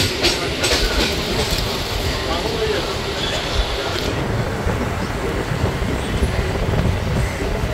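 A suburban train on the Sealdah–Ranaghat line rolls steadily, with a loud continuous rumble and rattle of the carriages and a few wheel clacks, and talk can be heard inside the coach.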